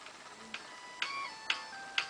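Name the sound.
jukebox CD mechanism spinning up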